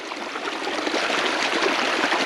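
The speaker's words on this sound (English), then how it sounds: "there's a lot of water going over there too." Flood water rushes along a small stream beside an ATV trail after an ice storm, a continuous loud broadband wash of flowing water with no voices.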